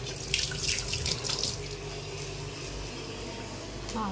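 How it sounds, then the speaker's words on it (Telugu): Water runs steadily from a kitchen tap while hands are washed under it, the splashing louder at first and then settling into a constant close-up stream. "తర్వాత హ్యాండ్ వాష్ చేసుకుందాము"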